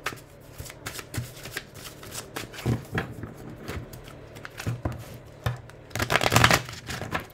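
A deck of cards is shuffled by hand in repeated quick riffles and soft flutters, close and fairly quiet, ending in a louder burst.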